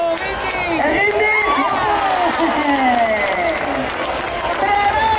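A dense crowd roars, cheers and claps at the second qualifying round of the Campeonato de Cortes de Castilla y León in Arévalo, 2024, a Spanish bull-leaping contest. Many shouting voices overlap in a loud, continuous wash, with a commentator talking over it.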